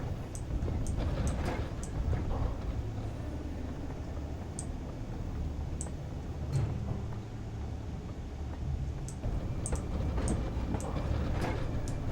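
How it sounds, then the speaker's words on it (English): A train in the video game In Sound Mind rumbles steadily at moderate distance, with scattered faint clicks and rattles over the low drone and no talking. "Indeed, train. Cool sounds, also."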